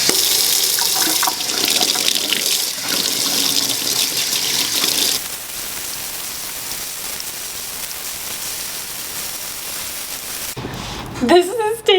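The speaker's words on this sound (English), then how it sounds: "I'm totally gonna wash my hands now" A tap runs loudly into a sink during handwashing, a strong gushing stream that softens partway through before water splashes and stops near the end.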